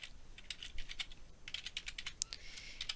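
Rapid, irregular keystrokes on a computer keyboard, close by and fairly quiet, clicking in quick clusters with a brief pause midway, no voices.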